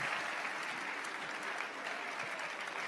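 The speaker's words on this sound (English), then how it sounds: "Can we get another round of applause for Amin?" Audience applause fills a TEDx 2020 event hall, a steady dense clapping that holds at an even level for about three seconds with no voices over it.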